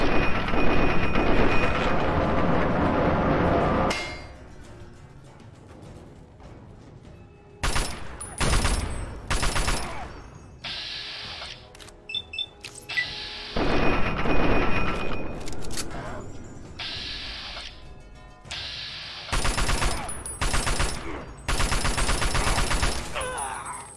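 Enemy gunfire in Fallout: Tale of Two Wastelands, loud bursts of shots in repeated stretches separated by gaps, with game sounds between.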